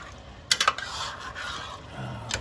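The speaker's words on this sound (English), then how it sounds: "So now what I'm going to do is throw in a can of coconut milk. Stir that around." A can of coconut milk stirred into browned Caribbean oxtails braising in a pot, with a few sharp clinks of a utensil against the pot followed by a steady soft scraping, close by, with no talking.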